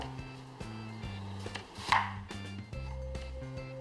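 A knife cuts through a sweet onion on a board, a few distinct chops with one sharper thunk in the middle, heard over a steady tonal background hum.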